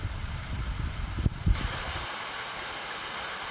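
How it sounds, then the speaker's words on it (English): A waterfall in Hidden Jewel Gorge, Australia, on an abseiling trip; a constant broad rushing roar fills the scene, with a couple of brief thumps partway through and no speech. "This is number three waterfall."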